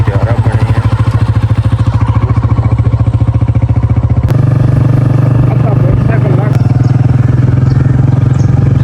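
A motorcycle ridden along an early-morning village road, its engine chugging in a fast even pulse close by, shifting to a rougher, louder drone midway, while someone talks over it.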